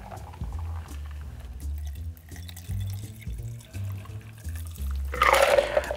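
A whiskey milk and cookies cocktail strained through a Hawthorne strainer over ice into a highball glass, liquid pouring and trickling steadily, with a brief louder splash near the end.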